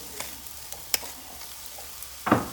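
Scrambled eggs with salmon sizzle in a hot pan as they toast on one side: a steady, close crackling hiss with scattered light pops and clicks, then a louder burst of sizzling near the end; no talking.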